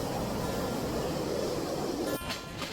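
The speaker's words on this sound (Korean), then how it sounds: "엘라행 기차를 탔다" The Kandy to Ella train in Sri Lanka rolls along with a continuous loud rumble and rattle, with a brief clunk and a shift in tone near the end.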